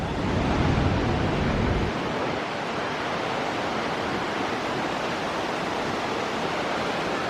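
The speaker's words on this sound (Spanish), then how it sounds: "El sonido de las cataratas de Iguazú." A steady, powerful roar of Iguazu Falls at the Devil's Throat, broadband rushing water filling the scene, slightly louder at first then holding constant.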